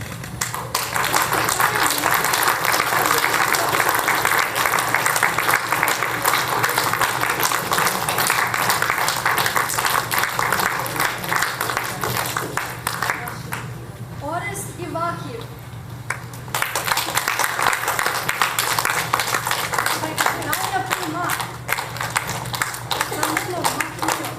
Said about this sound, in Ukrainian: Давайте оплесками зустрічаємо